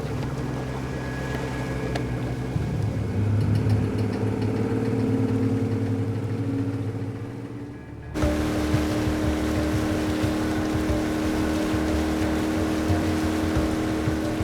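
A motorboat engine drones steadily at sea throughout, a low rumbling hum with rushing water and wind, shifting slightly in tone partway through.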